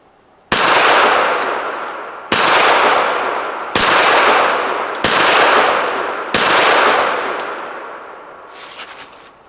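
Five loud pistol shots fired one at a time at a target on a range, each a sharp crack trailing into a long ringing decay, spaced about one and a half seconds apart, with no talk.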